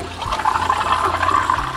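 An espresso machine's steam wand frothing milk, a steady close hiss with a bubbling, rushing texture that runs without a break.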